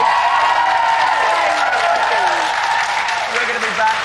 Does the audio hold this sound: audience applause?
yes